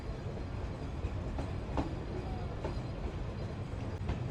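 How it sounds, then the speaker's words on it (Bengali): A train pulls into Kashiani Junction in Gopalganj on the Kolkata to Dhaka run, heard from on board as a steady, fairly quiet rumble with a few faint clicks along the way. "আর এখন আমাদের ট্রেন এন্ট্রি করছে কাশিয়ানি জংশন"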